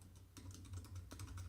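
A domain name is typed on a computer keyboard in a quick series of crisp key clicks, with a few short bursts over a steady low hum. Quiet and close, with no talk.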